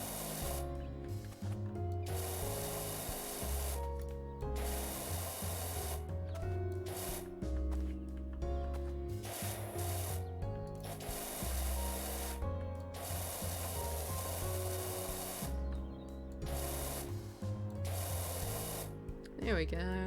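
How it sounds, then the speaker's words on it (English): Pressure washer spraying in the video game PowerWash Simulator, a loud hissing jet that cuts in and out in repeated bursts, with a person talking over it at times. "You can change the nozzle when you're spraying."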